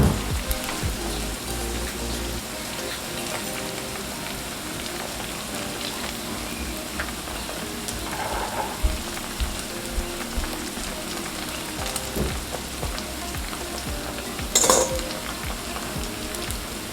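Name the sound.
dumplings frying and being flipped in a pan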